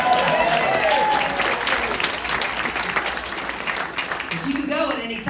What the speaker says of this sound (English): Clap for Russell.